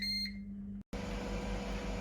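A Ninja Foodi gives a single clear electronic beep after start is pressed, followed by a brief silence and then a steady fan-like hum as the appliance begins running.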